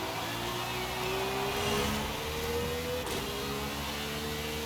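A car engine in Forza Horizon 5, running on drag tires, holds a steady droning hum with a slowly rising tone, like gentle acceleration, continuous and fairly loud throughout with no talking.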